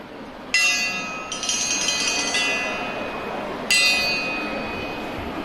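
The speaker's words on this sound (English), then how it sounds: "let's have the bell." A bell rung at a school annual day celebration, three bright metallic strikes with long shimmering rings that decay slowly, heard clearly over a low hall murmur.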